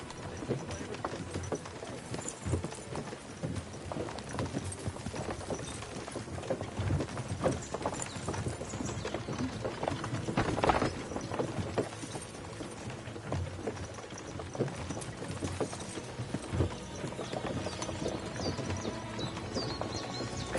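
A ridden horse's hooves clip-clop steadily on a yard surface, close by, in an even walking rhythm under a dense outdoor background.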